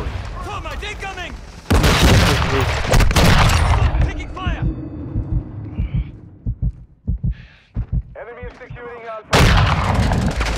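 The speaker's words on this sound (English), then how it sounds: "Thermite incoming." A thermite grenade goes off in a shooter game, heavy booms and crackling bursts in loud blocks amid gunfire, with radio-style voices talking between them.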